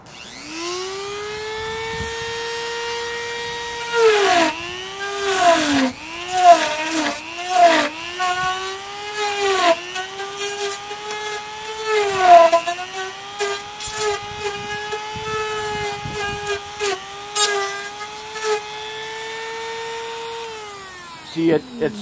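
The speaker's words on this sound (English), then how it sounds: "take a rotary hand tool and a sanding band like this and to easily carve the rigid insulation" A high-speed rotary tool with a sanding band whines steadily, its pitch dipping and rising as it carves rigid insulation, with scraping grinding bursts throughout.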